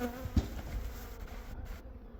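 Bees buzz in a steady, faint drone nearby as winter covers are removed from their hives, a continuous hum with no talking.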